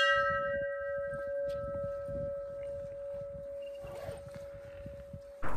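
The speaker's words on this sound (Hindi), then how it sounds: "क्या सही टाइम पे घंटी बजी" A bell at a pir baba shrine in the Gurez Valley, Kashmir rings with a single steady, sustained tone that hangs over soft background rumbling and movement, and a sharp clatter comes at the end.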